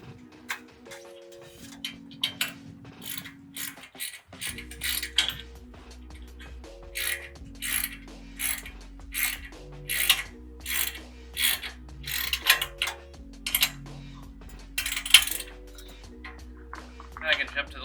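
Roof rack mounting being tightened on a Ford Transit, with repeated close ratcheting clicks in short bursts over a steady low electronic hum and background tones.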